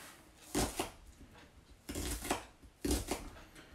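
Fresh chives being chopped with a knife on a board, three short bursts of quick rapid cuts separated by pauses, close and fairly quiet.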